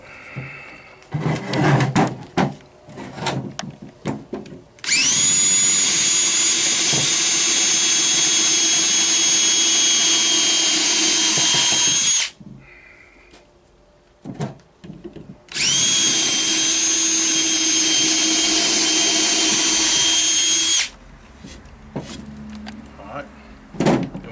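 A power drill fitted with a 1/4-inch bit bores holes while building a porch swing. Two loud, steady whirring runs of several seconds each are separated and surrounded by clattering handling noises and talk.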